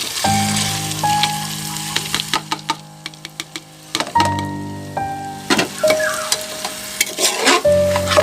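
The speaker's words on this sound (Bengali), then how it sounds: "কষিয়ে আমি দিয়ে দেব আগে থেকে ভিজিয়ে রাখা ডাল।" Soaked moong and masoor dal tipped into sizzling spices for vegetarian dalia khichdi, then stirred: a steady frying hiss broken by sharp spoon-on-pan scrapes and clicks, close and fairly loud, with faint tonal music underneath.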